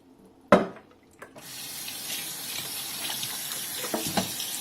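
A duck is rinsed with water and apple vinegar in a kitchen sink: a sharp knock, then a steady running tap that splashes and gurgles close by, with small clatters as the meat is handled.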